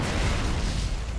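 A frag grenade explodes in Gears of War 3, a loud sustained boom with a rumbling low-end roar filling the whole moment, no voices over it.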